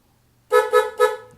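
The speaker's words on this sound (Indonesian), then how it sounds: "Nah itu klaksonnya ya." A chrome-finished Helibar horn fitted to an upgraded 250cc Honda CB motorcycle sounds three short, loud, evenly spaced honks in quick succession, close up in an otherwise quiet setting.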